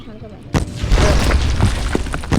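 A loud explosion in the Tank Mates video game, a sudden booming burst followed by sustained rumbling game noise, with players chatting over it.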